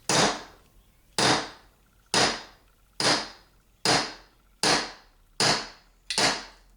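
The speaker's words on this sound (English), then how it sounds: "we'll just give that a few whacks over here on our bullet puller place" A kinetic bullet puller is whacked against a hard surface to pull loaded ammunition, giving eight sharp, evenly spaced knocks about a second apart, each ringing out briefly before the next strike.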